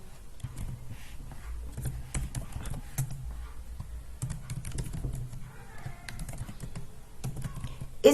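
Computer keyboard keys clatter as names are typed into an Excel spreadsheet, a steady close stream of quick clicks with irregular pauses, over a low hum and no talk.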